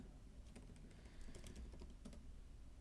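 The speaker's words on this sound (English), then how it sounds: "typing," Quiet, steady typing on a computer keyboard, a run of soft irregular key clicks close by with no talk.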